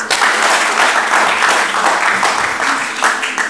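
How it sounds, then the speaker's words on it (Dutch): Hearty applause from a theatre audience greeting comedian Guido Weijers as he comes on stage, dense, loud and steady clapping filling the room with no voices over it. "Mag ik jullie hartelijk applaus voor Guido Weijers."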